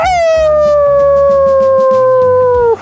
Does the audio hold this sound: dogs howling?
yes